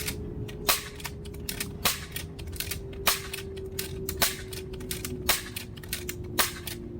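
Modded Nerf Desperado blaster firing Adventure Force waffle darts at about 80 feet: a steady run of sharp, punchy shots roughly every half second to second over a constant low motor hum, close and fairly loud.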